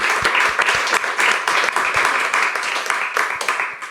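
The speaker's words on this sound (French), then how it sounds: "Je pense qu'on peut beaucoup les applaudir." An audience applauds two interview guests with continuous, fairly close clapping from a modest crowd, a few distinct sharp claps standing out over the wash.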